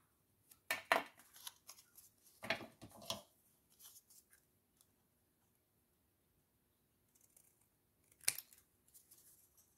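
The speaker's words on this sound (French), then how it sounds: "Coupe un petit bien en dessous aussi." Scissors snip through material for a corset pocket in a craft setup, giving several short, close cutting bursts with pauses between them, quiet and alone with no talk.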